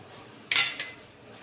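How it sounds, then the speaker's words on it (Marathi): A knife cuts through a ripe mango into pieces, landing as two quick, bright chopping knocks against a board in a home kitchen, close and fairly loud in a quiet room. "आंबा असा छान कापून घेऊया, फोडी काढून."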